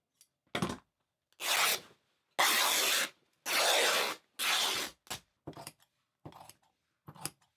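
Scissors slice through camo fabric while cutting out the overskirt apron of a bustle skirt: a handful of long, rasping snips in quick succession, close and crisp, followed by shorter clipped cuts with brief pauses between them.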